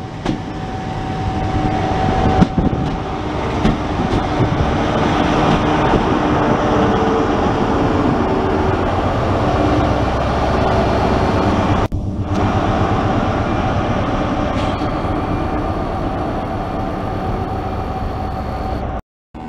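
A Class 47 railtour train rolls past a station platform in Cornwall, its loud, steady rumble and rattle filling the air close by with little change, then cutting off abruptly at the end.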